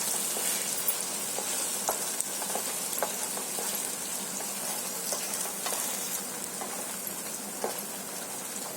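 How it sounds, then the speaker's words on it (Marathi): Ground masala gravy fries in chicken oil with cloves for chicken changezi, a continuous close crackling sizzle dotted with small pops and faint stirring, no talk. "आता ग्रेव्ही आहे ना चांगली फ्राय करून घ्यायची आहे"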